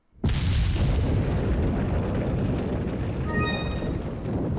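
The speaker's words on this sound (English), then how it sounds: "So that explosion you just heard was the previous arena" A sudden, loud explosion in the video game Resident Evil 4 HD bursts in and keeps rumbling as a heavy, sustained roar, with a brief high ringing tone near the end.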